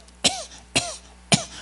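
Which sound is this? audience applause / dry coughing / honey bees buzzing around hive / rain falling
dry coughing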